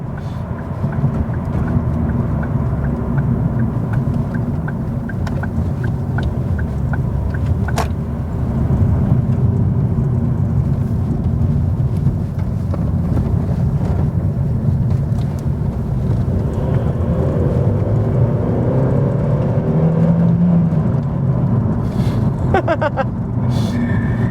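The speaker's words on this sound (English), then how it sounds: "It genuinely feels as though the car is thanking me for driving it hard." A 2005 Ford Focus Mk2 driven hard, its engine and road roar a loud continuous drone from inside the cabin, rising and falling gently with revs over the whole stretch.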